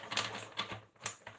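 Tarot cards being shuffled by hand close up: several quick, crisp riffling bursts in an uneven rhythm, with short pauses between them and no talking.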